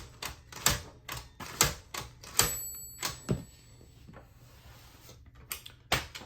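A 1959 Smith Corona Sterling manual typewriter clacks through a series of sharp, close mechanical strikes as its tabs are set, irregularly spaced with one faint metallic ring and quiet gaps between.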